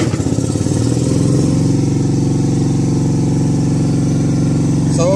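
The engine of an Ammann AFW 150-2 asphalt paver runs with a steady, loud diesel chug close by, rhythmic throbbing that settles into a sustained revving drone for several seconds, with no talk over it.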